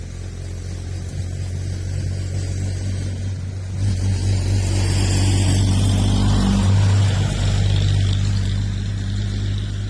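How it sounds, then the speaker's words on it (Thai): A low, rumbling boat engine drone holds throughout, swelling slightly louder midway as the boat passes nearby at a river mouth, with steady background noise. "มีเรือกลับมาอีกแล้ว"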